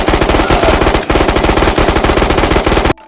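Rapid automatic gunfire from firearms in the VR shooter Ghosts of Tabor, loud and close, in long sustained bursts with one brief break, cutting off abruptly at the end.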